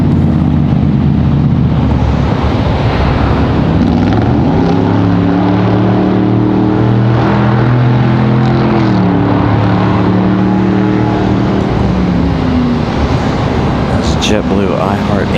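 A jet airliner touching down and rolling out on the runway at Raleigh-Durham International, a loud continuous engine roar with shifting tones, heard near and steady throughout with a voice talking over it.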